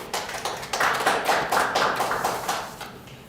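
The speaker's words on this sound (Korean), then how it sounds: "하나님께 영광의 박수를" Worshippers at a Christmas Eve church service clap for God in a lively burst of applause, a close, rhythmic run of hand claps that swells and then tapers off, with no talking over it.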